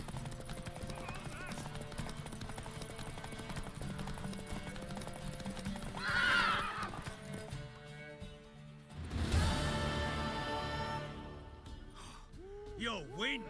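A horse in the Witcher 3 video game clops its hooves in a steady rhythm and gives a brief whinny, faint beneath music and spoken game dialogue.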